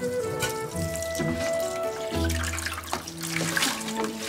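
Fresh sea shrimp are rinsed under running water, with a splashing trickle and a few sloshing, clattering handling noises, close and moderately loud with no talk.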